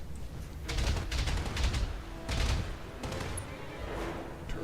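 Turrets in the mech game Battletech fire in repeated bursts of sharp shots with booming low thuds, several volleys spaced a second or so apart at moderate loudness.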